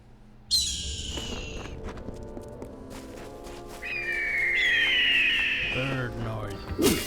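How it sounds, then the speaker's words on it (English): A bird calls in the Kingdoms of Amalur Re-Reckoning video game with shrill, falling whistles over layered game ambience. It is fairly loud and close, and a rising cry and a sharp final squawk follow. "Bird noise."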